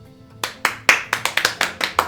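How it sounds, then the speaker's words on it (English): A few people clap briefly at close range, about nine sharp, irregularly spaced claps with no talking. "Round of applause for the guy."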